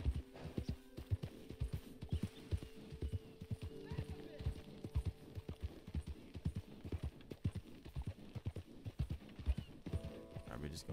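A horse's hooves clip-clop in a rhythmic, quiet walking gait in Red Dead Redemption 2, the steady hoofbeats running under talking, with a brief whinny-like sound among them.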